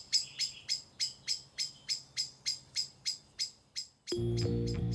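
Birds confused by bright greenhouse lighting at night give a regular series of about a dozen sharp, high chirps, each fading quickly, before a steady low hum abruptly takes over near the end.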